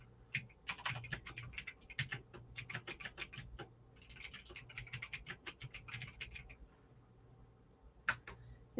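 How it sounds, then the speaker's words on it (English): Quick bursts of clicking keystrokes on a computer keyboard, close and fairly quiet, with short pauses between runs of typing and a final pair of taps. "let me get it typed up here"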